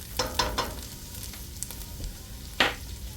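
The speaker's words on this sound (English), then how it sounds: "So I'm going to stir this around a little bit." A spoon stirring potato soup in a pot, a few quick scraping strokes close by, then a quiet pause and one more louder scrape, with a soft sizzle underneath.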